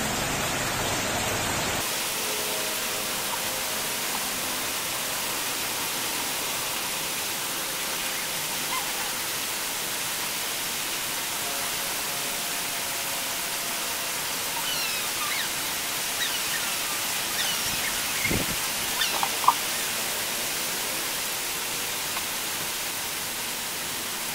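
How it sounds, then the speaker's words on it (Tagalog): Steady rain hisses continuously, broadband and even, with a faint thump or two partway through and no voices. "Umuulan na dito."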